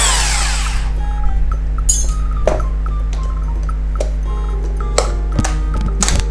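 A compact Bosch 3-function 220V electric hand drill whirs steadily at close range, its motor hum joined by scattered light clicks and clinks.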